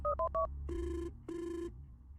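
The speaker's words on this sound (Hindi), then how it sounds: "वो अपना फोन निकालकर आयशा को कॉल करता है।" Phone-call ringback on a mobile phone while walking home: short beeping tones followed by two long, steady ringing tones with a pause between them, clear and fairly quiet, with no one talking.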